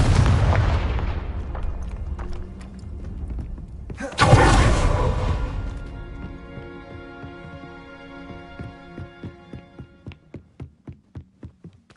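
Fiery Confringo spell blast in Hogwarts Legacy: a deep rumbling boom at the start, then a sharp second explosion with a bright crackling burst, fading into a ringing tail and a run of quickening rhythmic thuds.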